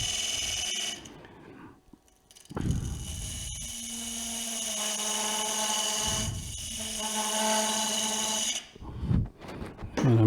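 A power saw cuts wood for a lidded box with a loud, sustained whine that holds for several seconds, dips, resumes, and then winds down near the end.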